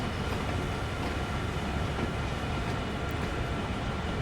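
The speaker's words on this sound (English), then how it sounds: "let's go ahead and slow this train down because we need to stop" Freight train on the Sand Patch Grade in Train Sim World 2, a steady dense rumble of rolling wheels and engine noise, loud and continuous with no speech.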